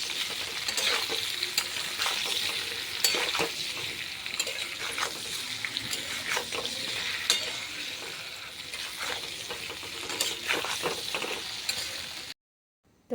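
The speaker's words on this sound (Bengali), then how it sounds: "এখন আমি একটু ভাজা করব।" Mango pickle ingredients fry and sizzle steadily in a pan, a close continuous crackle with occasional scraping stirs, no talking, ending in a brief silence.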